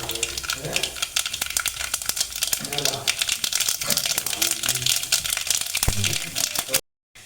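Mustard seeds and fenugreek crackling and sizzling in hot coconut oil, a dense steady hiss with scattered popping bursts throughout, close and fairly loud, ending abruptly.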